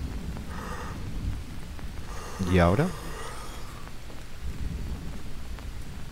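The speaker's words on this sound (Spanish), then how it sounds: "hay una tormenta que te cagas" Thunderstorm with steady rain in the jungle survival game Green Hell, a constant wash of rainfall with a rolling rumble, while someone talks over it.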